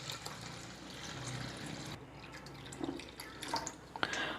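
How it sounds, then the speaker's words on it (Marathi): Water is poured onto washed mixed lentils in a bowl, a faint trickling and splashing with small drips that grows more uneven toward the end. "आता आपल्याला डाळीमध्ये पाणी घालायचे."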